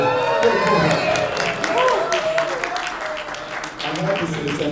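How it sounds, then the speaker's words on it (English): Audience applause at a leadership masterclass interview, steady broadband clapping filling the room for several seconds, with talk and cheering mixed in over it. "let's just give a nice round of applause for"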